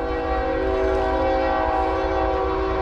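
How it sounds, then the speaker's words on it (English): Steady train horn holding one chord for the full stretch, loud and unbroken over a low rumble, with no talk. "I hear the whistle blowing."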